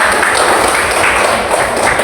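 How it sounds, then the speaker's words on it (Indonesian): A class gives a round of applause, a dense, steady wash of many hands clapping together at close range, loud and unbroken. "Silakan kasih tepuk tangan kepada"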